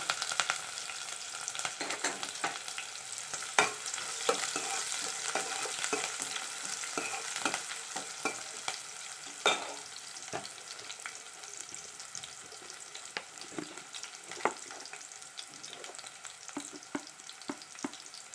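Chopped onion and green chillies frying with mustard seeds in a pan for a brinjal potato curry, giving a steady close crackling sizzle with occasional stirring scrapes and no voices.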